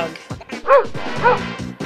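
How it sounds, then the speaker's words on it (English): A small dog gives two short, yappy barks close by, with a brief pause between them. "Dog."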